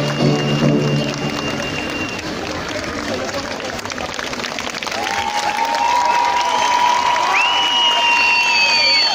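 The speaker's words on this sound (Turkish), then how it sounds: "Alkışlayalım onları gerçekten." An audience applauds at an outdoor Ramadan-event concert in Sarıyer, a dense, continuous patter of many hands held at a steady level, with cheering, whistles and crowd voices mixed in.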